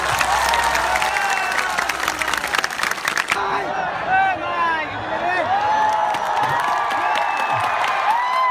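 A large protest crowd against CAB at Latasil, during a curfew, claps and cheers for artists, with whoops and shouting voices over the applause, loud and dense throughout.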